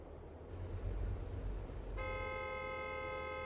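A truck horn honks in American Truck Simulator, a steady multi-tone blast starting partway through and holding to the end over low engine rumble.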